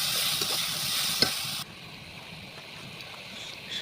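Ground spice paste with garam masala being stirred in a hot pan: a loud, dense sizzle with a single sharp scrape, suddenly dropping to a much quieter hiss partway through.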